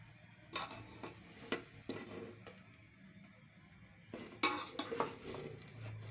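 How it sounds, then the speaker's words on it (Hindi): Chicken fried rice is served from a pan into a dish in a home kitchen, heard as sparse metallic clinks and scrapes of a spoon against the pan and plate, with a few sharper knocks and quiet stretches between them. "इसको डिश में निकाल रही हूँ"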